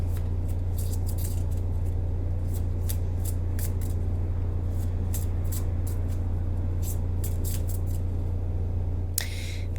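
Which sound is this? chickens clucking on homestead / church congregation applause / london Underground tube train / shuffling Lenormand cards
shuffling Lenormand cards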